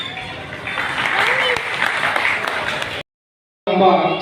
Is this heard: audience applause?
yes